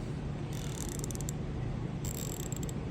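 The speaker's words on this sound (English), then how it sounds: "Not that this Nipros is a bad ratchet. That's a 90 tooth." A Nipros 90-tooth 1/4-inch ratchet clicks close up in two quick bursts of fine, rapid ticking, with quiet pauses between and no talk.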